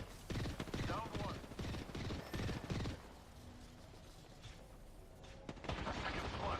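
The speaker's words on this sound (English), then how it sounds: "The second squad is firing at us." An enemy squad fires in Apex Legends, giving dense, rapid overlapping gunshots for about three seconds. Quieter shots follow, with faint voices in the background.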